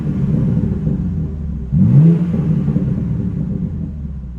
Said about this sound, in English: I'll give y'all 3 revs,